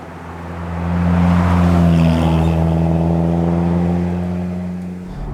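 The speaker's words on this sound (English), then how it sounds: "valve exhaust system, which, because it's Bluetooth controlled, is jammed in loud mode" Modified 340 bhp Alfaworks Alfa Romeo 4C with its valve exhaust jammed in loud mode, a deep, steady engine drone that swells and holds, then eases off, heard from inside the car with no talking.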